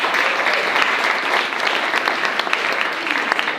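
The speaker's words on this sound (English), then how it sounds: "Let's give them a round of applause." A large audience at a community development summit gives the planning team dense, sustained applause that stays steady and loud throughout.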